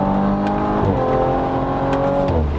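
An Audi RS5 accelerates hard toward a corner, its engine rising in pitch through the revs, dropping briefly at a gear change, then climbing again, loud and close from inside the cabin.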